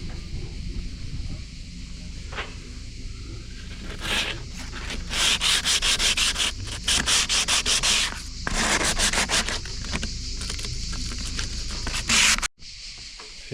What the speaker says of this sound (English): Finished doing most of the sanding and put some primer on.